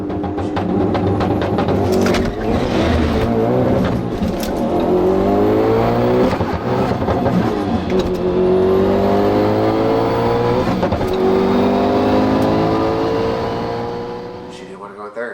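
Audi B6/B7 S4 race car at full throttle on a record pass, loud engine rising through gears with a rough transmission grind into third, steady roar throughout before easing off near the end, with voices beneath.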